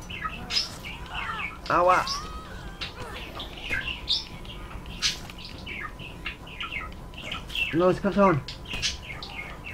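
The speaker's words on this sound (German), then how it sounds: "Mein Vogel, der flippt auch schon aus." Pet bird in a room chirping and squawking repeatedly in busy, agitated bursts, close and fairly loud, while someone speaks briefly.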